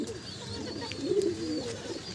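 Madrasi pigeons coo in low, soft rolling calls, close by over a steady background hum.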